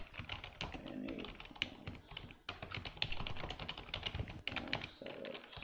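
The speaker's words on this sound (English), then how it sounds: "does my keyboard sound like that? It's so annoying." Computer keyboard typing during a live forex trading session, steady clustered keystrokes at close range, fairly loud and continuous with short pauses, no speech over it.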